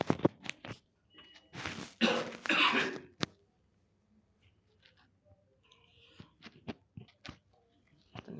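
A man with a hoarse throat coughs in several quick bursts, then clears his throat, close to the microphone during a PHP programming lesson on conditional statements, followed by scattered small clicks and quiet pauses.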